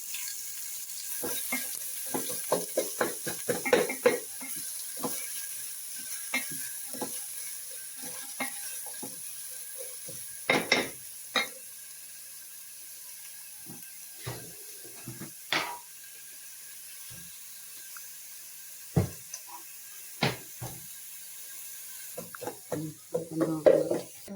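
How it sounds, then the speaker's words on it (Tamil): Onion and green chili stir in hot oil in a pan for a Tamil crab masala, a faint steady sizzle broken by scattered scraping and clattering stirs from a spoon. "அப்புறம் நம்ம எடுத்து வச்சிருக்கிற இந்த வெங்காயம், பச்சை மிளகாய் ரெண்டையும் சேர்த்து நல்லா வதக்கிக்கலாம்."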